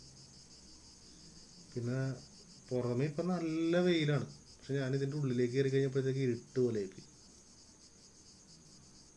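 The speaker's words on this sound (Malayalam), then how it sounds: "ചീവീടുകളുടെ സൗണ്ടും" Crickets shrill in a steady high drone in a shaded wooded area, constant and moderately loud, while someone talks over it.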